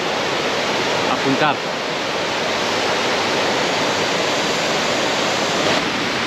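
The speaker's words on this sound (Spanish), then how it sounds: "Desde aquí se empieza a ver un poco la cascada, que es mucho más alta de la que vimos anterior" A waterfall on the Bolaven plateau in Laos roars as a steady, dense rush of water throughout, with someone briefly speaking over it early on.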